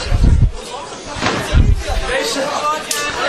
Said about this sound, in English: Again looking for the scoop slam. And drilled down hard.